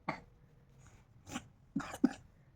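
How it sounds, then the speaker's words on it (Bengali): Someone coughs several times at close range: a single cough, a faint one, then a short double cough, in a quiet room. "কাশি হচ্ছে"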